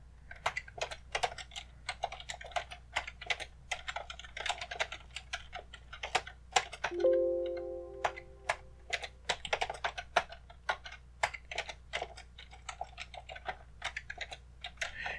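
Computer keyboard typing while setting up a Disney Infinity 3.0 Gold game mod on a PC: quick, irregular clicking keystrokes fill the whole stretch, close and moderately loud, with a brief electronic tone near the middle and no talk.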